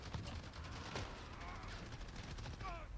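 Gunfire in an online shooter video game pops and rattles in faint bursts through a busy, dense mix of game sound, with no clear speech over it.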